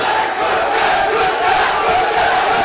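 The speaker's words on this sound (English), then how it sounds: "Deafening chants of Gujjar coming from the crowd" A loud, dense crowd at a national mixed martial arts semi-final chants a fighter's name, Gujjar, in a steady, continuous roar with rhythmic swells and no pause across the whole stretch.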